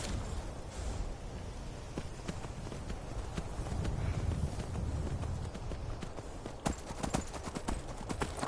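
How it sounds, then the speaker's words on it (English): Horse hooves clip-clopping in the video game Skyrim, a steady stream of hoof clops over a dense game soundscape with ambient noise, the thuds sharpening toward the end. "Fucking horse, get the fuck back here."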